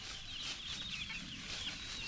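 A flock of farm chickens and chicks clucks and peeps softly. The small, high chirps overlap steadily at a faint, close level.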